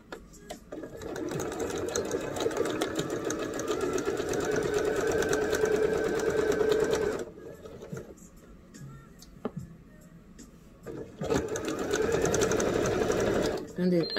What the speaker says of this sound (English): Now we're going to sew our shoulder seams